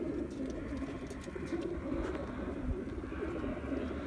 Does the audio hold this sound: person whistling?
no